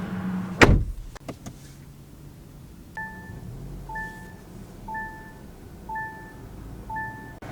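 Getting into a 2023 Kia Soul: a sharp car door thunk near the start, a couple of quick clicks, then a regular series of five soft electronic chimes at about one-second intervals.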